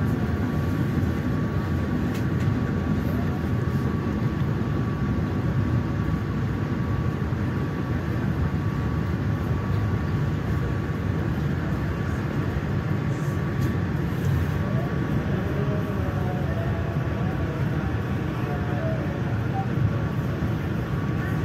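Jaka Tingkir economy-class passenger train pulling into Lempuyangan station in Jogja at night, a steady loud low rumble of wheels and carriage noise with a faint tonal hum throughout.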